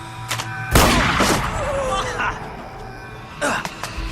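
A shotgun blast erupts in the anime High School of the Dead, one loud booming shot followed by a ringing tail, with fainter pops before and after and voices talking around it.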